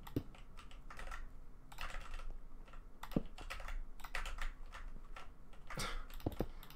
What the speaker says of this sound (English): I love the fact that I'm just smashing my keyboard.